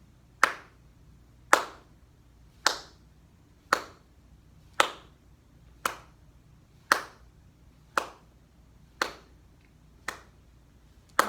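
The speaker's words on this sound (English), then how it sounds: "She will snap it down as I clap my hands." Hands clap a steady marching beat for a band camp drill, about one sharp, close clap per second, ten or so in a row with no voices over them.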